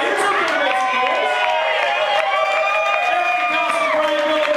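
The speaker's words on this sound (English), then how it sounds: "We have a nice crowd here." A crowd gathered for a live pre-NFL-draft radio show at Padonia Station murmurs, whoops and cheers in a busy, continuous wash, with voices talking loudly throughout.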